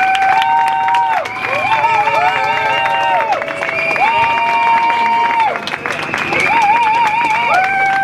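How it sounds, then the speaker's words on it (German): Loud, sustained audience applause after a political speech at a rally, mixed with cheering and long whistle-like tones rising and falling over the clapping. "das ist dein Applaus"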